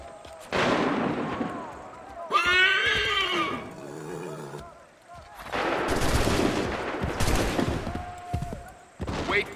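Musket volleys ring out in Assassin's Creed 3, a loud, crackling fusillade erupting in bursts separated by pauses, with shouting soldiers, a whinnying horse and ongoing battle noise between the volleys.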